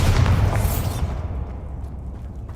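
A Bombarda spell goes off in Hogwarts Legacy as a loud, deep boom, then a rumbling decay that fades over a couple of seconds, with no voices.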